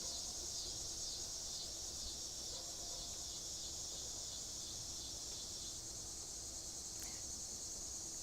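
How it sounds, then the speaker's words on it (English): Cicadas or similar insects buzz steadily and quietly in a garden, a continuous high shrill drone holding through the whole stretch with faint background noise and no talk. "The cicadas say hi."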